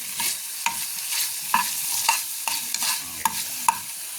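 Frog pieces sautéing with annatto in a pan give a steady soft sizzle, broken by sharp scrapes and clinks of a utensil stirring at irregular intervals, close and moderately loud with no voices.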